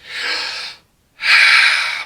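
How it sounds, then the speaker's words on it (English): A person breathes close to the mic: a long breathy inhale or exhale, a short pause of silence, then another equally long, loud breath. "Breathing. Because I gotta breathe."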